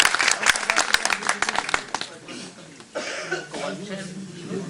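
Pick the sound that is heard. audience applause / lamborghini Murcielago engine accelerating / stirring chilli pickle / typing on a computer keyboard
audience applause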